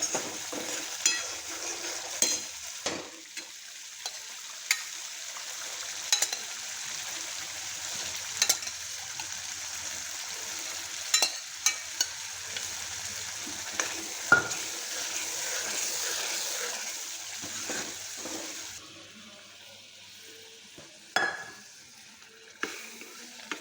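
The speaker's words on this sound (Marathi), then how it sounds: "असा मसाला शिजत आहे" Dhaba-style rajma masala with plenty of oil sizzles steadily in a pan, a close, continuous frying hiss broken by sharp clicks of a spoon stirring and scraping at irregular intervals, with no talking.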